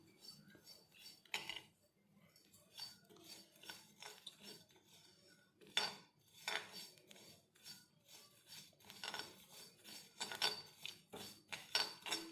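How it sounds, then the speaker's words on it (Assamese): Panch phoron spices are stirred and dry-fried over low heat in a wok for mango pickle, with a spoon scraping the metal in irregular bursts amid quiet pauses. "মছলাখিনি কম জুইতে ইয়াৰ সেমেকা ভাৱটো যোৱালৈকে লৰাই লৰাই ভাজি ল'লেই হ'ল।"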